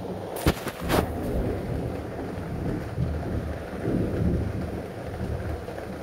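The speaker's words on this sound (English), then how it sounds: "sorry for the background voice, it is raining over here" Steady rain falls outdoors with thunder, including a loud close crack near the start, then continuous rolling rumble and patter under the rain throughout.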